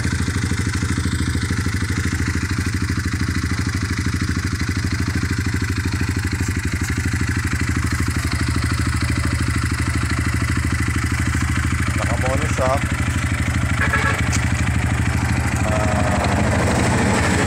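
A Honda XR 200 motorcycle engine idles steadily and loudly up close, its exhaust thumping in an even, rough rhythm throughout, with no change in pace.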